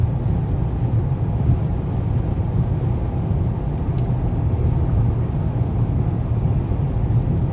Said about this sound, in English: a little bit of noise testing while on the highway